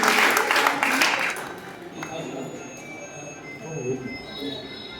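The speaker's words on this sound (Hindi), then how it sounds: "जोरदार ताली बजाइए।" Audience applause at the Shri Digambar Jain Parshvanath temple in Gohana, Sonipat, during an evening guru bhakti gathering: a brief burst of clapping that quickly fades into a softer murmur of voices and room noise.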